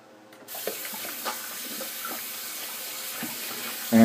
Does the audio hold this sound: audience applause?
no